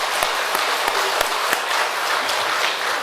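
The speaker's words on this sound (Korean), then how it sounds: "우리 목사님께 감사의 박수 한번 하시겠습니다." A church congregation at an evangelism meeting applauds together, a dense sustained round of clapping with a few sharper individual claps standing out, steady and fairly loud throughout.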